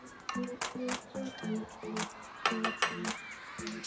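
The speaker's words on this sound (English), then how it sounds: "And go ahead and stir it with the spoon." A spoon stirs salt into water in a container, making quick rhythmic metallic clinks and pings against the sides, close and fairly quiet.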